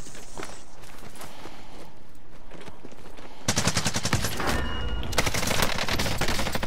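Gunfire in Call of Duty: Warzone, first some scattered shots under general game noise, then loud sustained automatic bursts of rapid fire.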